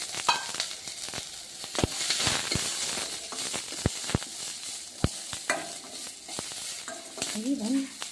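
Dry grated coconut stir-fried in oil with onion for a festival sambar, a soft sizzle under repeated sharp scrapes and taps of a spatula against the pan, with a bit of background chatter.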